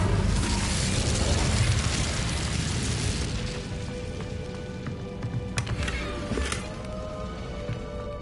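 Incendio fire spell cast in Hogwarts Legacy, a loud whooshing burst of fire that roars for a few seconds and then fades into crackling, with a couple of sharp impacts near the end.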